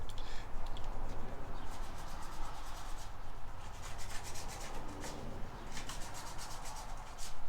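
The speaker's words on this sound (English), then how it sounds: "He's over there sanding his thing." Steady, rasping sanding continues throughout, a close scratchy rub with rhythmic strokes and no voices.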